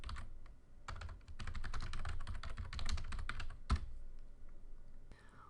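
Rapid, close keystrokes clatter on a computer keyboard in steady bursts while closing text is typed into an email, with a brief pause near the end.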